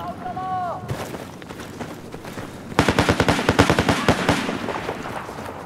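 Automatic gunfire in Battlefield 4: rapid bursts of rounds, sparse at first, then a dense, loud volley from about the midpoint on, with a short tonal game chirp near the start.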